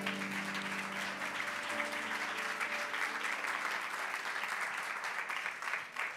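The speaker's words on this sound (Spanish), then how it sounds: "Denle un aplauso." A church congregation applauds during a sermon at a New York church. The steady, dense clapping runs the full length of the clip, while sustained organ or keyboard tones fade out partway through.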